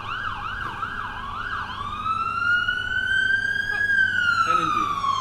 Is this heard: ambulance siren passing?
yes